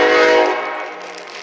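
A passing train sounds its horn, a loud, rich blast that quickly fades to a fainter, distant tone.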